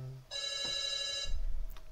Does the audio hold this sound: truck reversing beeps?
no